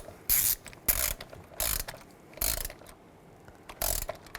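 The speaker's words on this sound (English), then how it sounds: "Then you want to torque these to 9 Newton meters." A ratchet torque wrench tightens the intake manifold bolts on a 2006-10 Volkswagen Jetta, giving five separate bursts of close, crisp clicking with short pauses between them.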